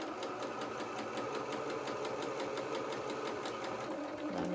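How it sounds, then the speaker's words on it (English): A sewing machine stitches slowly around the curve of a small doll jacket, a steady, fairly quiet needle chatter that carries on evenly from start to finish, with no one speaking. "Keep pivoting as you go round by leaving your needle in the work and lifting up your presser foot."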